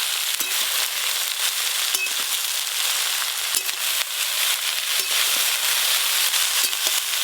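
Dhenki greens, a leafy Bengali vegetable, hit hot mustard oil in a pan and sizzle loudly and continuously, a dense crackling fry with sharp pops scattered throughout and no talking.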